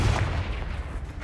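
Confringo blasting spell in the Hogwarts Legacy video game, a loud explosive boom with a low rumbling burst that decays quickly.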